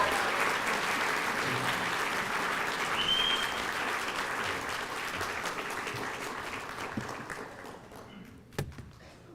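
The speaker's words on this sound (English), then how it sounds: "Let's give them a big round of applause." Sustained applause from a graduation ceremony audience for a medical school class, dense and steady across the whole stretch, thinning slightly toward the end with a few isolated claps.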